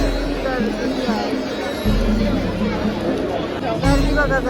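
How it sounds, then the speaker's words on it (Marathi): A crowd mills around the temple at Pandharpur, a steady babble of many voices nearby with a few clearer close voices standing out over the hubbub. "गर्दी बघा गर्दी"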